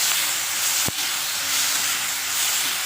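Ground spices with turmeric and salt fry in a hot pan, giving a steady, close hissing sizzle with one sharp tap partway through.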